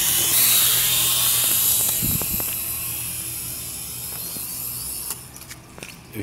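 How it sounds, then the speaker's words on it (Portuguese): A cheap toy drone bought online lifts off and flies, its small rotors giving a steady high-pitched whine that stays close and fairly loud, easing slightly as it moves, with a few light knocks and handling clicks. "agora o drone vai decolar"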